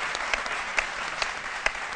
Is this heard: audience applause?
yes